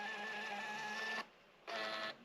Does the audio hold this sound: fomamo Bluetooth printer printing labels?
yes